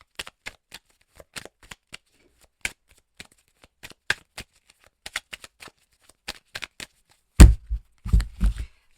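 Belline oracle cards are shuffled with quick, irregular snaps and riffles close to the microphone, finishing in a few heavier thumps as the deck is squared.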